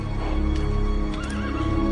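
A horse whinnies with a rising, wavering call while hooves clip-clop steadily beneath it, close and fairly loud over a constant low rumble of outdoor background noise.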